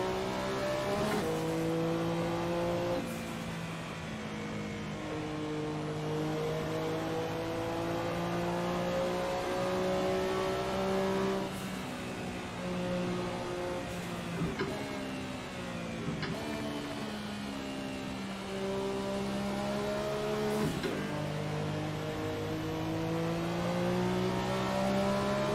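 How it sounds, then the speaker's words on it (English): A Porsche 962 race car engine in Assetto Corsa drones and revs continuously at Silverstone, its pitch climbing and dropping sharply with repeated shifts and downshifts, loud and steady with a rattling top end, and no voices. "I can hear the damn top end of this motor rattling."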